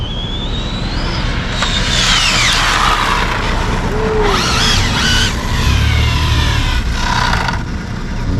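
An Arrma Infraction RC car races past at high speed, its electric motor whining in sweeping rising and falling pitches over steady outdoor background noise, with passes growing nearer and then fading.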